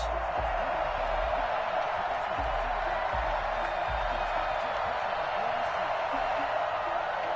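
Stadium crowd noise from an EA Sports NFL game ahead of a Cleveland Browns versus Baltimore Ravens matchup, a steady broad roar of cheering with faint low thumps, running continuously throughout.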